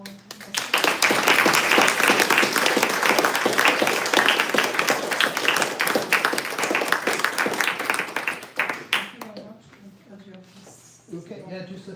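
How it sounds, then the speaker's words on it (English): An audience at an AI study group talk claps loudly and steadily for several seconds before the applause thins out and fades, with speech picking up near the end. "special applause to our"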